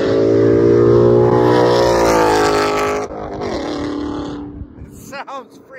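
A Ford Mustang GT S550 with an AWE touring resonated catback exhaust revs loudly up and then falls away, a deep rising engine note close to the microphone, trailing off into quieter burbles.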